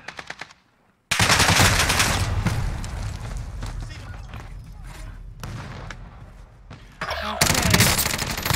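Rapid automatic gunfire in the Warzone video game, loud bursts after a brief quiet start, continuing in sustained volleys with players talking over it.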